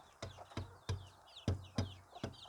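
Chickens clucking close by in their coop before being let out, a series of sharp, rhythmic clucks with higher chirpy calls in between, no talk.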